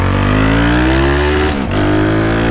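A motorcycle engine revs loudly and steadily up close, its pitch climbing, dipping briefly, then recovering, with no talk over it.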